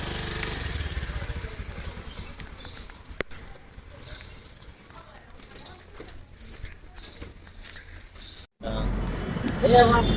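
A small Activa scooter engine idles and revs nearby, its steady drone rising and falling, with a brief dropout before the motor returns louder.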